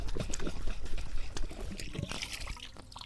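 Water being poured and splashed to rinse and wash items outdoors before cooking bamboo chicken, a steady trickling and dribbling close by that runs the whole time.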